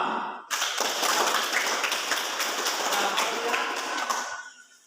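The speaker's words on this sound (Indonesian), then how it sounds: "sekali lagi kita tepuk tangan kepada kelompok 2" Classroom audience of university students clapping in sustained applause for a presenting group, dense steady clapping starting abruptly and fading out near the end.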